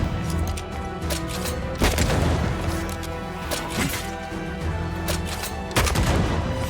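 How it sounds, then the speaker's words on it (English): Gunshots in Banishers: Ghosts of New Eden: several sharp, loud shots and crashing impacts scattered through a busy combat soundscape, spaced irregularly, with little talk. "I think I heard the sound of a gun going."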